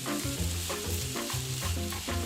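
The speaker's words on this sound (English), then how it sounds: "Add your onions and cook until slightly translucent. Then add your chili," Onions and chili fry in corn oil in a pan over medium-high heat, a steady, dense sizzle and crackle close by, with soft stirring movements and no talking.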